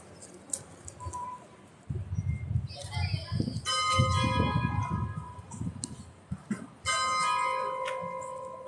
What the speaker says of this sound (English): It's the 30 minutes past 1 bell.